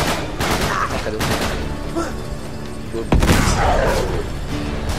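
Heavy weapon fire in Uncharted 3, dense repeated blasts and booming shots filling the whole clip, with a sharp loud burst partway through.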